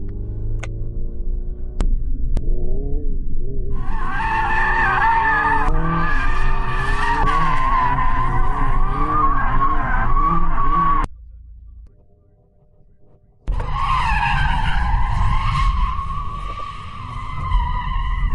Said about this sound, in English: The drivers are preparing their vehicles, warming up their tires to ensure maximum grip.